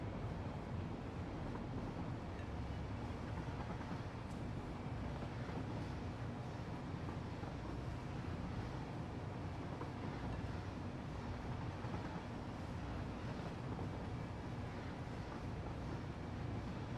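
A train rolling along in a railway video game, a low steady rumble and hum at moderate level, continuous and unchanging with no talking.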